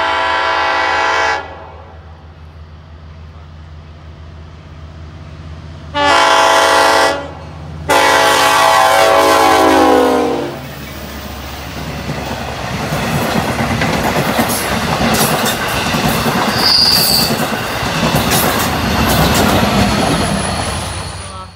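A train horn blares in several long blasts, then a freight train rumbles past close by with rolling wheel clatter and some squeal, loud and sustained throughout.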